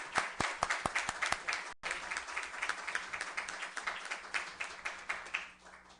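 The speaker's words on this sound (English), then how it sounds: "Let's show a round of applause to them." A crowd applauds steadily at a council meeting, many hands clapping densely at once, with a brief break early on before the clapping resumes and slowly thins out.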